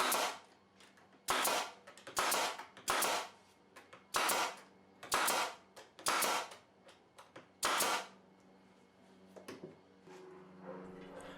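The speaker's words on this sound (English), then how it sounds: "I'll use some brad nails and attach them to the back side to be used as feet" A brad nailer fires nails to fasten plywood feet onto the back of a scrap-wood segmented bowl press base: about nine sharp, evenly spaced shots close by, each followed by a short mechanical clack, then quiet workshop handling.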